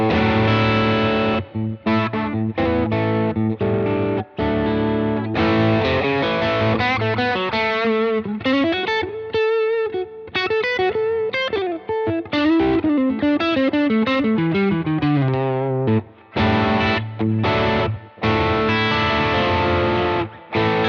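Electric guitar through a BB distortion pedal, warm overdriven chords and melodic single-note lines played continuously and loud, with brief choppy stops between phrases.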